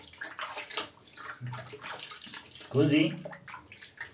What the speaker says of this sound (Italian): Ci andiamo a bagnare il viso